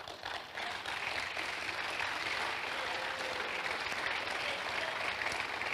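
A church congregation claps in a steady, dense burst of applause that holds evenly and fills the room for several seconds.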